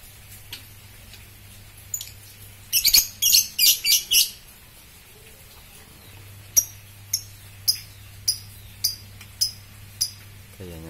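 A black-legged Bahorok white-rumped shama sings in short bursts: a rapid cluster of bright chirps early, then a steady series of sharp, evenly spaced whistled notes, close and fairly clear over a low background hum.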